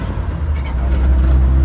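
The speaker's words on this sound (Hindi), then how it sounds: "एग्जॉस्ट की जो साउंड आ रही ना इसका तो मजा ही अलग है भाई" Maruti Gypsy exhaust burbling as a steady low rumble close by, rising slightly in loudness toward the end with no talk over it.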